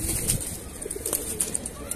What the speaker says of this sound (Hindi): नीलदुमा कबूतर है साफ बदन का